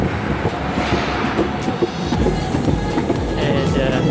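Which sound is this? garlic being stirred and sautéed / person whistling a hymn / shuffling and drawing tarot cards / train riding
train riding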